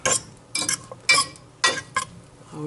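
Greens being stirred in melted butter in a pan, with a utensil clinking and scraping against the cookware in several short, irregular bursts, close and with no talking.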